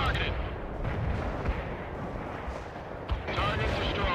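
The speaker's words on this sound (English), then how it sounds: "Your mortar strike inbound." Mortar strike explosions in the war video game World in Conflict come as a dense, continuous rumble of booming blasts and gunfire, with heavier thuds standing out, while voices talk over the battle.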